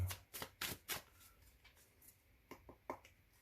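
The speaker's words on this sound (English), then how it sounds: "So I'm going to shuffle 3 times and then cut the deck." Quiet, close tarot card shuffling in a few quick riffling bursts with short pauses between them.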